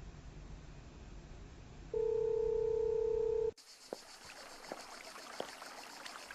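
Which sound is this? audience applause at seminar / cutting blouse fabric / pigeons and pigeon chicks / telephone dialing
telephone dialing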